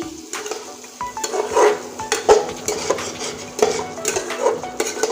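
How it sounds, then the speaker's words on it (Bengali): Chicken with potatoes being stirred and cooked down in a pan, a spoon scraping and clinking against the metal in steady repeated strokes over a soft sizzle, close and moderately loud with no talk. "এই দেখুন সেই চিকেনটা অনেকক্ষণ ধরে কষিয়ে নিচ্ছি"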